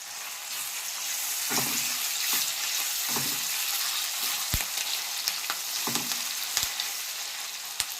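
Curry leaf sprigs crackle and sizzle in hot oil in a pan already holding tomatoes for a potato masala curry, a steady loud frying hiss broken by sharp pops and spatters, close up with no talking.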